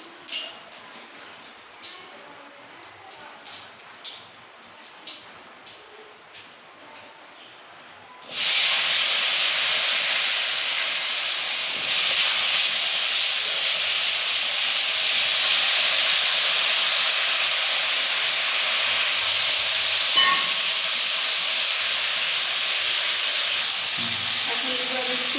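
Potatoes hit hot oil with cumin seeds already in the pan, bursting into a loud, continuous sizzling hiss that holds steady to the end after a quieter opening with faint clatter and background sounds.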